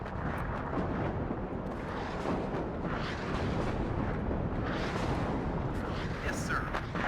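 Dense artillery fire in the WARNO strategy game forms a steady rumbling barrage of overlapping booms and blasts, loud and continuous throughout the clip.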